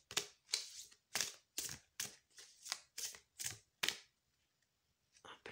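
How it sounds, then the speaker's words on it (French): Tarot cards shuffled and drawn, a run of about nine crisp riffling bursts in steady rhythm, close and alone, then a short quieter shuffle after a pause. "je vais tirer 2 cartes de conclusion différentes."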